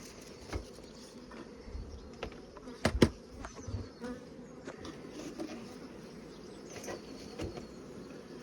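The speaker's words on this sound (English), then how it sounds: "Got a lot of bees up in the top super." Honeybees buzz steadily in an opened hive topped with two supers, a dense continuous drone with a few louder knocks and handling thumps.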